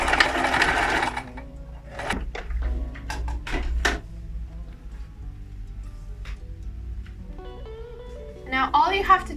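Sewing machine stitching close to the edge of an upcycled fabric pencil case to close a small opening, with a continuous motor whir, short bursts of stitching and handling clatter, and a voice speaking over it.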